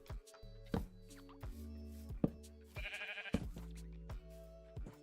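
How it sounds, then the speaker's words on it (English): Sheep in Minecraft bleating and making crunching grass-eating sounds, several short bleats and chewing plops spaced across the clip, fairly quiet with no talking. "sheep making strange sounds when eating grass"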